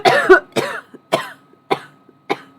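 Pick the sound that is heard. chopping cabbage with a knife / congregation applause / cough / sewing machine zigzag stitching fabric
cough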